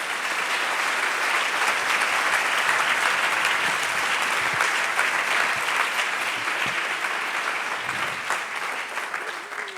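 A business awards evening audience in France applauds, a sustained wash of many hands clapping at close range that holds steady for about ten seconds and eases slightly near the end.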